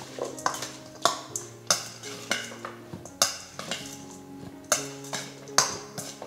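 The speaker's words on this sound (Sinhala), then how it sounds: "ඒ විදිහට කලවම් කරලා" Tomato sambol is stirred in a bowl with a spoon, making a steady rhythm of about a dozen sharp clinks and scrapes, close and fairly quiet, with no talking.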